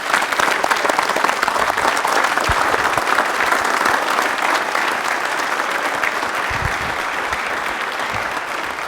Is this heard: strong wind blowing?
no